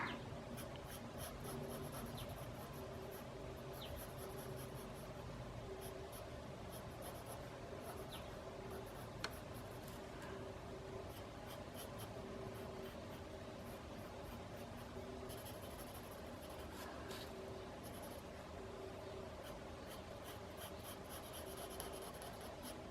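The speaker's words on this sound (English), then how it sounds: "My pencil's getting a little stubby, but I hate to waste." Pencil scratching steadily across paper while shading a drawing of shallots, close and continuous with small strokes and pauses, no talk.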